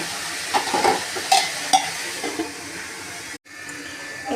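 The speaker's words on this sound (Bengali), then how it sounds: "এইভাবে নেড়ে হলুদ আর নুনটা মিশিয়ে ভেজে দেবো।" Ash gourd pieces with turmeric and salt are stirred and fried in a pan, giving a continuous sizzle broken by a few sharp scrapes and clacks of a utensil, then a sudden brief drop before the frying hiss resumes.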